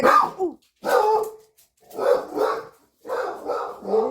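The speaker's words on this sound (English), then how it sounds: "What is she barking at?" A dog barks in repeated bursts nearby, loud and insistent, with brief pauses between groups of barks.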